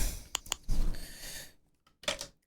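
Several sharp computer mouse clicks during a Tents and Trees logic puzzle: a close double click early, a softer cluster later, with a breathy noise between them and no talk.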